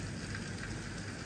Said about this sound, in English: I've never seen rain like it